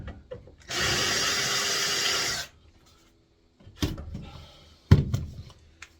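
A power drill bores a countersink clearance hole through a shipping container wall, a steady loud whine for nearly two seconds, then a pause followed by two shorter bumps and scrapes as the bit is handled.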